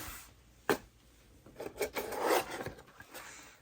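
Packaging for a PPE thermal bypass block for a 3.0L Duramax being opened: rubbing and rasping handling noises with a sharp tear or snap early on, then a cluster of crinkly scraping sounds, close and fairly quiet, with no talking.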